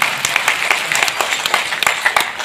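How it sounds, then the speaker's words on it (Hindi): Loud, close audience applause at a program in Jaipur, with distinct individual claps standing out over a crowd of hands in a brisk, uneven rhythm, lasting a couple of seconds. "जोरदार तालियां हो जाए।"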